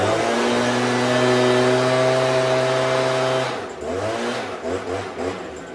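A Stihl chainsaw engine holds a steady high-pitched rev after a slight high-idle carburetor adjustment, then drops off and sputters through uneven revs, loud and close.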